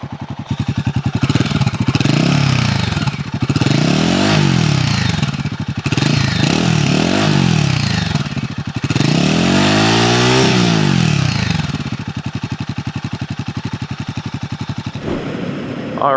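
A 2025 Royal Enfield Himalayan single-cylinder motorcycle thumps loudly up close, its exhaust revving up and down in repeated surges before settling to a choppy idle.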